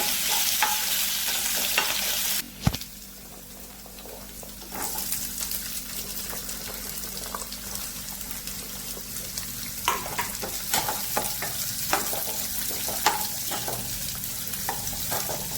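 Crushed garlic and onion sizzle in hot oil, a steady close frying hiss with a sharp clatter near the start and intermittent stirring scrapes, no talking.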